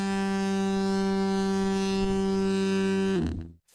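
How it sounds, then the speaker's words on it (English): A deep, steady fog horn blasts one sustained, buzzing tone for about three seconds, then cuts off with a brief echoing tail. "fog horn"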